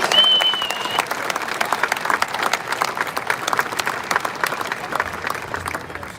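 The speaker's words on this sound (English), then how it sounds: "fans, let's hear it one more time for Roger Penske and the Penske family" Audience applause fills the room at the Indianapolis 500 drivers meeting, a dense, steady clapping from a large crowd, fairly close and sustained, with a brief whistle near the start.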